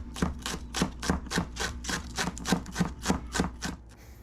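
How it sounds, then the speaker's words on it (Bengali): A carrot and cabbage are grated by hand for a vegetable corn soup, making about a dozen even, rhythmic rasping strokes up close that stop near the end. "এবার একটা গাজর আমি গ্রেট করে নিচ্ছি, সাথে আমি বাঁধাকপিও গ্রেট করে নিব।"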